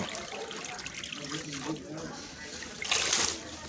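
Running water splashing while soil is washed off freshly dug roots at home, a steady trickle with a louder splash near the end, with someone talking over it.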